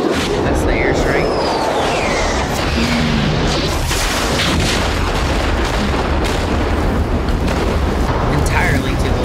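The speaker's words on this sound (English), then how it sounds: "That's the airstrike." Airstrike explosions from the 1994 film Forrest Gump: a dense, loud, continuous roar of booming blasts and rumbling that never lets up, with voices faintly heard beneath.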